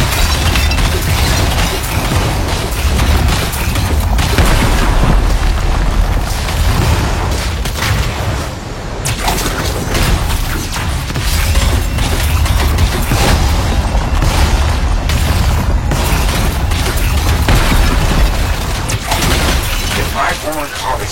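Crystals exploding in a dense, continuous barrage of booms, shattering cracks and debris, loud and close throughout, with voices talking over the chaos.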